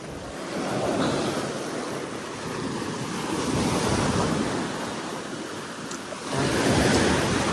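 Surf washes in steadily on a beachfront with a sandy shore, a broad continuous roar of breaking waves with wind buffeting the microphone, swelling again near the end.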